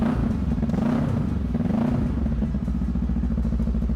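A 700 cc two-cylinder motorcycle engine fitted with an Akrapovic exhaust idles close by with a loud, steady, throbbing pulse and slight rhythmic swells in revs.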